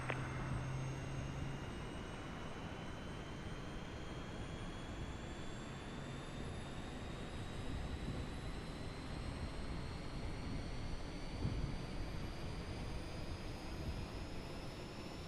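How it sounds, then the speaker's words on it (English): Auxiliary power unit on an Airbus A330-900 airliner spinning up at the gate, a broad steady roar with a whine that climbs slowly in pitch, held close and constant under a low rumble. "There we go, APU is coming on."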